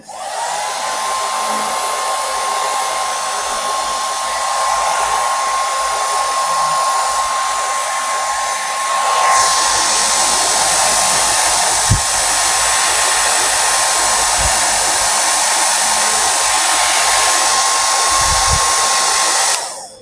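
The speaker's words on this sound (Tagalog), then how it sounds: "Matagal matuyo yung buhok kasi mahaba." A hair dryer blows steadily and loudly for the whole stretch while long hair is dried, with a constant whine that rises slightly in intensity partway through and a few faint knocks underneath.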